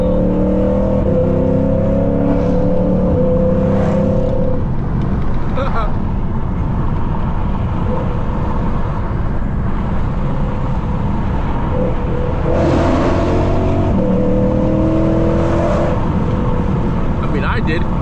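A 540 hp V8 Toyota engine roars under full throttle while driving downtown, with loud, continuous revving and surging acceleration. People talk over the engine throughout.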